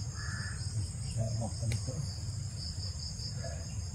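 Steady crickets chirp throughout while a crow caws a few times in the distance.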